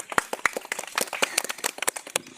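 A village audience at a play claps for a child, with scattered uneven hand claps in a loose ragged patter that stays sparse and never builds into full applause.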